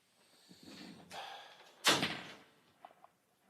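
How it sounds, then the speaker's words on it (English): A door is pushed shut indoors, giving one sharp, loud thud with a short rattle after some quieter shuffling, then a few faint knocks in a quiet room. "Close the door, Teddy"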